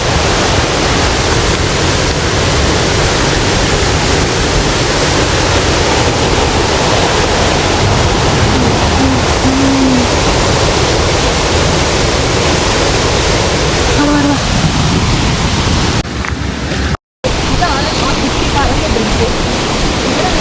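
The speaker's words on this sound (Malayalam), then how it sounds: "ആ വെള്ളത്തിൻ്റെ സൗണ്ട് നമുക്ക് കറക്റ്റായിട്ട് കേൾക്കാം" Loud, steady roar of river water rushing through the Devil's Pulpit gorge, a continuous broadband wash close by that barely changes across the whole stretch, with a brief dropout near the end.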